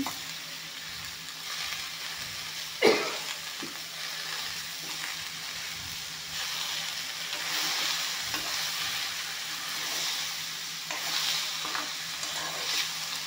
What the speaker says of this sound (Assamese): এইখিনি অলপমান লাৰি দিম পানীলাওখিনি।